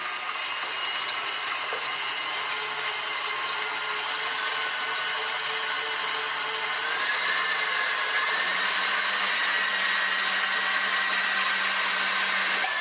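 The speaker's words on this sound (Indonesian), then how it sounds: "Kocok pelan-pelan dengan speed rendah, lalu semakin lama semakin cepat." An electric mixer whisks eggs and sugar, its motor a steady whirring hum whose pitch climbs partway through as the speed rises, running alone without speech.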